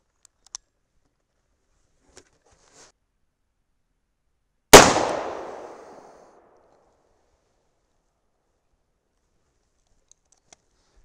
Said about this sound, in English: Let's shoot one and see if it blows our face off.